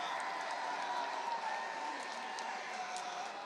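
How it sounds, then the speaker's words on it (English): Ole Miss baseball fans cheer and roar in a stadium after a game-tying hit, a steady broad crowd wash with scattered shouts and clapping throughout. "And the Ole Miss fans finally with something to cheer about."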